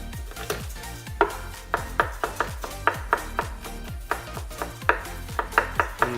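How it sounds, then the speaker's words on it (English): A knife chops garlic on a cutting board in a quick, steady series of about twenty sharp, close knocks. "we're gonna chop up some garlic with my handy dandy knife"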